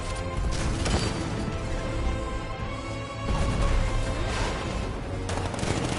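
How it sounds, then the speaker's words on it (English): A 60mm tank cannon fires in the Batman: Arkham Knight video game on PS5, loud repeated blasts and rolling gunfire-like bursts over several seconds, dense and continuous with no talk. "60mm cannon operational."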